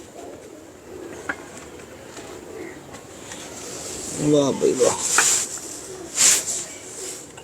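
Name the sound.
pigeons cooing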